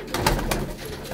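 Rampuri breed pigeons at a breeder's loft in Faisalabad give a few soft, close coos in a brief burst, with no talking.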